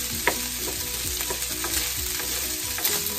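Hot dog and rice frying in butter in a pan, a steady close sizzle with scraping stirs and light clinks throughout, and no one talking.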